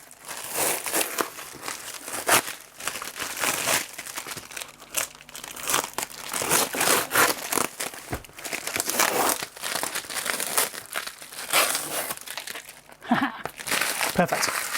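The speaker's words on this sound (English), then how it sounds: "I've got a feeling I can take all this tape off in one go." Packing tape peeled off a cardboard box in one long pull, a close, loud run of crackling, tearing and crinkling with short pauses, continuing for about fifteen seconds.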